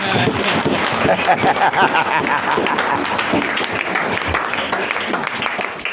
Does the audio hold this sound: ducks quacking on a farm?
no